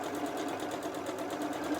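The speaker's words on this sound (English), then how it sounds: "sewing along the full length of that project" A sewing machine runs steadily while stitching along the seam of a star-patterned place mat, its fast, even mechanical whir continuous and close, with no voices over it.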